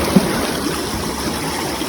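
Cold mountain spring water runs steadily at a high-altitude northern Pakistan viewpoint, a continuous near rushing and trickling flow with no voices.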